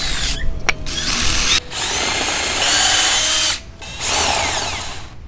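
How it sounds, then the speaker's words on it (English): A power drill drives self-drilling Spax screws into wood, whirring loud and close in two long continuous runs with short pauses and a brief stop near the start. "With these self-drilling tips on these Spax screws, we're going to just drill right in and sink this right where it needs to go."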